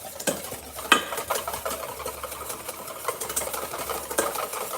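A whisk is stirred briskly in a bowl while oil is drizzled in, producing quiet, rhythmic scraping and clinking against the bowl, close but faint, with no voices.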